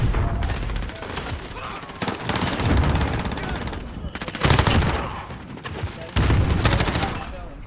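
Heavy rapid automatic gunfire in Call of Duty: Modern Warfare, on the Shipment map in Hardpoint mode, comes in dense loud bursts separated by brief lulls, with one long sustained volley near the end.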